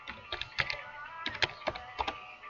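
Typing on a computer keyboard while entering a school address into an MS Access report card form, a quiet close run of irregular key clicks, some in quick bursts, with no voices.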